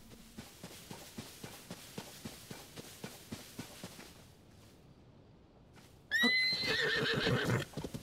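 A horse in the Zelda Tears of the Kingdom video game trots with steady rhythmic hoof clops, then after a pause gives a loud, close whinny.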